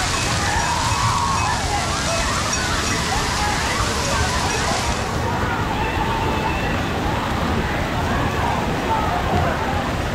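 Water splashes and sloshes continuously at Hershey's family water park, a loud, steady wash with people talking over it throughout.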